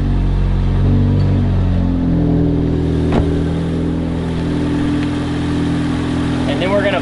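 Near and steady, an engine runs in a Focus ST or Mazdaspeed with auxiliary fuel injectors and a test map loaded on a new controller, with a sharp click partway through and a voice speaking over it.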